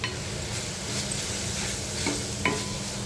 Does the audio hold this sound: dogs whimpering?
no